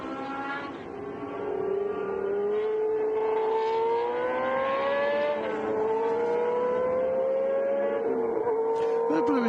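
A Ligier race car at a Le Mans Classic race on the Barcelona circuit, its engine note climbing and shifting through the gears as it takes the corners, loud and sustained for the whole stretch, with commentary faintly underneath.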